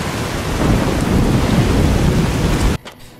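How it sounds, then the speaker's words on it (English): Heavy, muffled rain and rumbling thunder from a storm in Fallout: New Vegas, heard from indoors as a dense, steady roar that cuts off abruptly near the end. "You're going to be able to hear the storm from inside, but it'll be appropriately muted"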